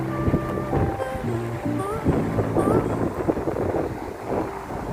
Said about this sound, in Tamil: கார் போற சத்தமும் சரி, தண்ணி போற சத்தம், அப்புறம் காத்தோட சத்தம், இது எல்லாம் சேர்ந்து பயங்கர சவுண்டா இருக்கும்